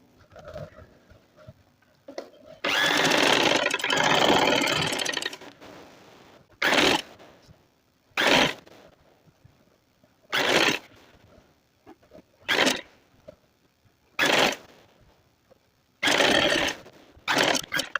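A sewing machine stitches the folded hem of palazzo pants. A long, close burst of rapid stitching is followed by a series of short stitching bursts, separated by quiet gaps with faint handling.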